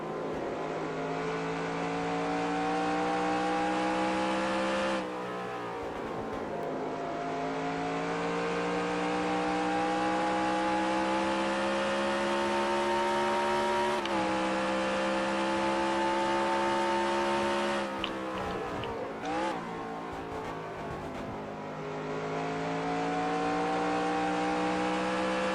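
Hendrick race trucks testing in a NASCAR video game, engines droning at steady high revs for long stretches with brief drops and shifts between, loud and continuous with no talk.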